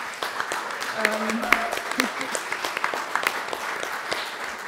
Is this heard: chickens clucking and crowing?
no